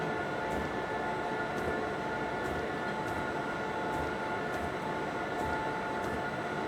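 A train in the Train Simulator 2022 game runs near Harburg in Germany, a steady low rumble with faint periodic clicks from the wheels, moderately quiet and continuous.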